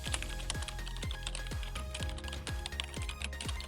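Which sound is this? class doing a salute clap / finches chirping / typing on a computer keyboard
typing on a computer keyboard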